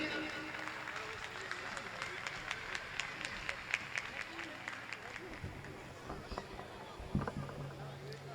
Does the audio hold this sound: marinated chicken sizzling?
no